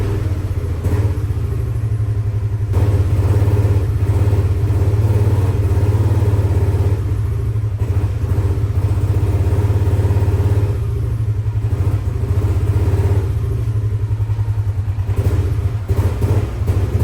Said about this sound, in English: give you guys a chance to see how crappy it's running